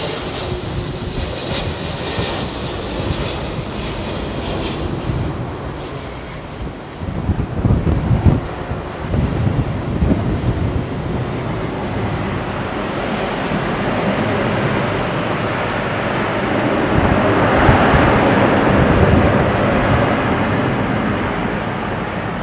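An airliner arriving on runway 27R at London Heathrow, with a loud, steady engine roar that swells and rumbles throughout and no voices.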